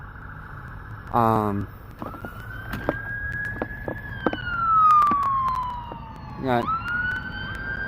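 An ambulance siren wails from a distance in Minnesota, rising and falling in a long sweep, with short electronic yelps and a brief bit of nearby talk.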